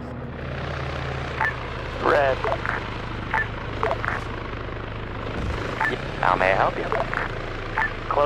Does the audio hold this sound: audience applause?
no